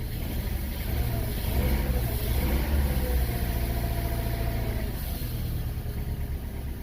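2005 Chevy Cavalier engine running with a misfire from bad fuel injectors, a loud, close, continuous rough idle with an uneven low throb, heard without talking.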